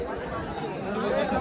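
Crowd chatter at a village bullock-cart race ground in Borichiwadi, Kalamb: a steady, dense murmur of many voices blending into one another, moderately loud and continuous without any single voice standing out.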